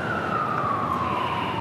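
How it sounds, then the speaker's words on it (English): An ambulance siren wails along a busy New York street, its pitch sliding slowly downward as it passes, loud and steady over the traffic hum. "Just waits for this ambulance to go by."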